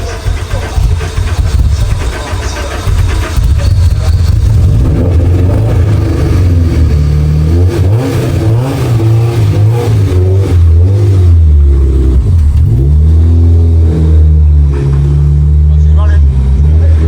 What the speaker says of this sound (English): Do you think it sounds like a healthy engine?